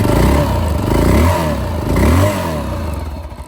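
A Honda XR650 motorcycle engine idles and revs nearby, a loud throbbing thump with rising and falling revs and a rough, clattering exhaust note, alone without talk.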